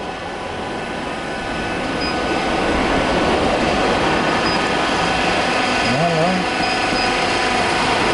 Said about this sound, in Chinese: 现在第一步，现在开始，油泵启动。